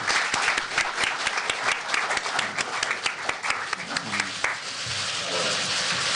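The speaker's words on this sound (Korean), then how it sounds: "박수로 맞아주시기 바랍니다." A crowd at a Korean press club debate applauds the arriving Saenuri Party leader Kim Moo-sung with dense, close clapping full of sharp individual claps, easing into a softer, thinner patter near the end.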